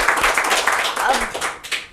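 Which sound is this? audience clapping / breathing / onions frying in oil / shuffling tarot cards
audience clapping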